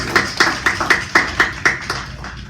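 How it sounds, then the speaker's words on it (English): Claps at a town hall, about nine distinct hand claps in an even, fairly slow rhythm, close and moderately loud, suggesting only one or a few people clapping rather than a full crowd. "I think that in itself merits a round of applause for all of our residents."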